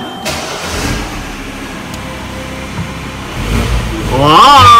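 A car engine cranks and turns over after failing to start, a low rumble that swells into a louder running engine toward the end, with faint background noise.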